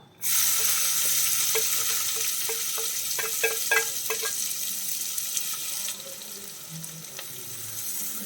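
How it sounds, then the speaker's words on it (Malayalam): Finely chopped onions drop into hot oil for fish cutlet and sauté with a loud, bright, continuous sizzle close by, punctuated by a run of quick spoon taps against the pan midway. "അപ്പം നമ്മൾ അതേ എണ്ണയിലേക്ക് തന്നെ കുറച്ച് സവാള, ഒരു ചെറിയ 2 സവാളയാണ് ഞാൻ എടുത്തിരിക്കുന്നത്."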